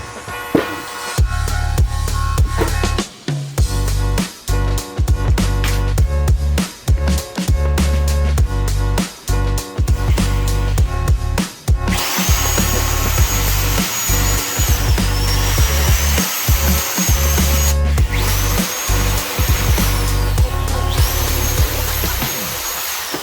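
A power drill whines loudly in repeated bursts of steady drilling into wood, stopping and starting again, close up and alone.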